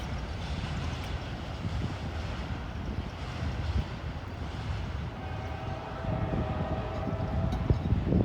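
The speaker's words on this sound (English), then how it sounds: "I think that's our 11th train" A CSX freight train rolls past at Fostoria, a steady low rumble of wheels and cars, fairly close and continuous throughout with no voices.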